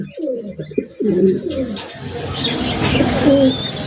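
German Beauty pigeon cooing close by, a few low rolling coos in succession, with other birds chirping faintly in the background.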